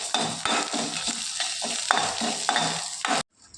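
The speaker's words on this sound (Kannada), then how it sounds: "ಇದೇ ಎಣ್ಣೆಗೆ ನೀರುಳ್ಳಿ, ಬೆಳ್ಳುಳ್ಳಿ ಮತ್ತು ಕರಿಬೇವು ಇದನ್ನು ಹಾಕಬೇಕು" Onion, garlic and curry leaves fry in hot oil with a continuous sizzle, broken by rhythmic stirring scrapes of a spoon against the pan, then cutting off abruptly into near silence.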